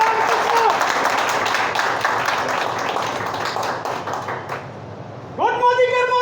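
Crowd at a meeting applauds to welcome a guest, dense clapping that thins out before a voice begins speaking over a microphone.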